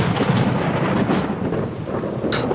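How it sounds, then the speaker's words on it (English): Thunder from a lightning strike in a fierce storm at sea rolls as a deep, heavy rumble over steady rain, loud and close, with brief sharper crackles layered in. "a bolt of lightning struck the boat, sending the fisherman tumbling into the churning sea"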